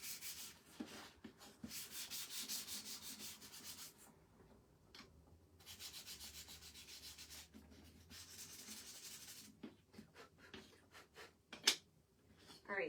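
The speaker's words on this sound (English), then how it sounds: "I don't know if our watering can needs to be sanded" Someone gently sands a watering can by hand. Soft, quiet rubbing strokes come in rhythmic bursts with brief pauses between them, close up, with no talking.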